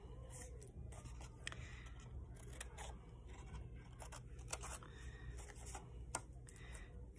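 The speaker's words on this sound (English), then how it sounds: "Cut out triangle shapes across your page." Scissors cut triangle shapes across a sheet of paper for a craft project, giving repeated close snips and scraping blade sounds over a low steady background hum.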